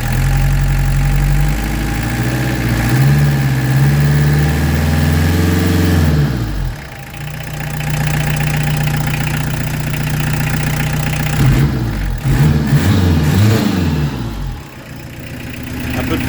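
A Peugeot 205 TD diesel engine with a Motorpal 4M injection pump runs loud and close, idling with a clattering rumble and revving up and down several times.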